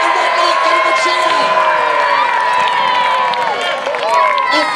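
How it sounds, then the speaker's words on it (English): An outdoor crowd at a knights' tournament at Dover Castle cheers for a knight, a loud sustained mix of shouts, whoops and children's high voices that carries on without pause. "u're cheering for Sir Robert the Red Knight, give him a cheer."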